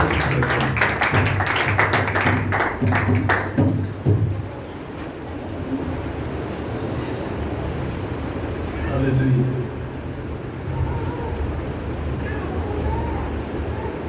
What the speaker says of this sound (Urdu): زوردار تالی خدا کے پاک روح کے لیے بجائیں گے